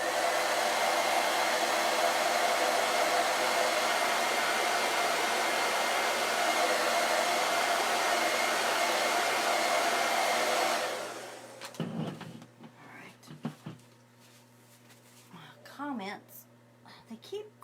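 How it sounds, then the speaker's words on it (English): A loud blow dryer roars steadily for about ten seconds, then cuts off, leaving quieter clatter and bits of talk. "this blow dryer makes it noisy"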